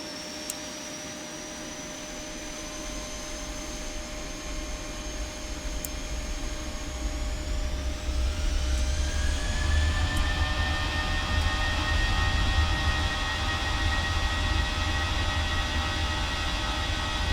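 Airliner engines spool up for a takeoff roll in the Prepar3D flight simulator, a steady roar that grows louder with rising whines, heavy low rumble and no talk.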